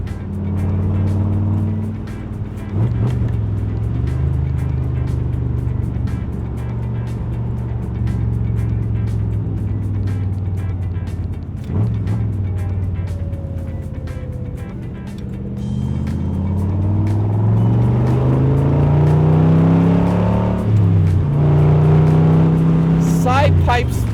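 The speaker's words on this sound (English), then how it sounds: "There's just something about a big block exhaling through those pipes." A Chevrolet Corvette L36 convertible's big-block V8 burbles through side-pipe exhaust, a deep loping rumble that swells with revs and drops back through gear changes, close and loud, with someone talking over it.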